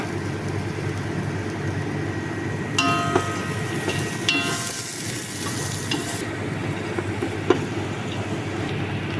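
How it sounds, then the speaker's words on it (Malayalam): Steady, dense sizzling of cashews frying in hot ghee, with occasional scraping clicks of a utensil stirring, continuous throughout. "കശുവണ്ടി ഇങ്ങനെ വറുത്തുകൊണ്ടിരിക്കുകയാണ്"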